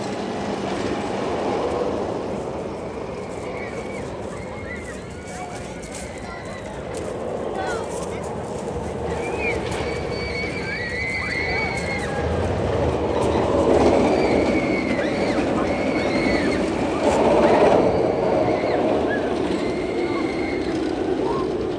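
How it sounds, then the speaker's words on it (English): The empty Jersey Devil roller coaster train at Six Flags Great Adventure crawls along its track with a low steady rumble, clacking and faint wheel squeals. A theme-park crowd murmurs throughout, with voices chattering in the background. "Jersey Devils went fairly slow too because the train is like completely empty."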